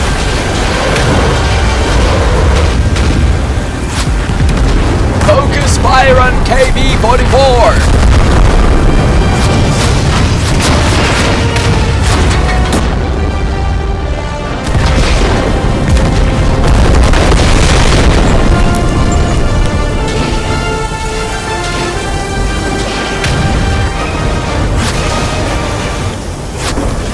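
Cartoon tank cannons fire in a dense barrage of loud, booming blasts and explosions that roll on continuously with heavy low rumble and bursts.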